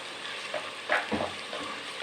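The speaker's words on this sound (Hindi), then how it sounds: "प्याज को हमने लाइट ब्राउन करना है।" Finely chopped onion sizzles in ghee in a pan, a steady close frying hiss broken by a few stirring scrapes, with no voices.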